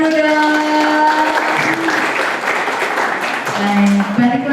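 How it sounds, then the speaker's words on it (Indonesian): Students at a vocational school outreach session in Indonesia burst into a loud wave of clapping in the middle of the moment, with voices speaking before and after it. "tepuk tangan dulu dong"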